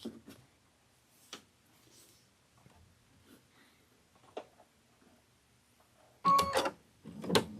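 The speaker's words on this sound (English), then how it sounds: "let's go ahead and sew up the next side" A sewing machine stitching a seam, heard as a loud close burst of rapid mechanical whirring near the end, after a quiet stretch with a few soft clicks and handling noises.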